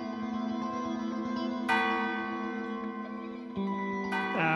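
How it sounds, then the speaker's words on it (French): Large clock bell in the central tower of the Assemblée nationale, driven by a grand striking mechanism, gives two heavy strikes whose long, rich metallic hum rings on and overlaps, with no voices. "Cette horloge-là est magnifique et un mécanisme grandiose avec une cloche exceptionnelle."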